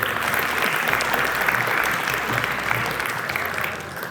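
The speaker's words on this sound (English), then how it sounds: "So give yourselves a round of applause" A crowd applauding at a community Fast A Thon gathering in a mosque, a thick, even wash of many people clapping continuously for several seconds, close and loud, with a low hum underneath.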